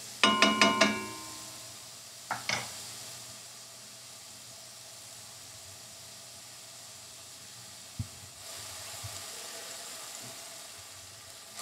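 Sausage cooking in a pan gives a steady, soft sizzle that runs throughout, with a few louder clinks and stirring sounds near the start and again around the middle.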